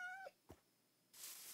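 A single video game cat meow, clear and close, then a short soft thump and a burst of hiss near the end.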